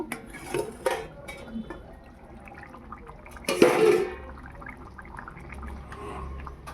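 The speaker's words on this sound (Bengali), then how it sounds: "এবার ঢাকাটা খুলে দেব" A cooking pot has its lid lifted off, with a few light metallic clinks early, then a louder clatter and rush of steam and bubbling before the kitchen settles into quiet simmering.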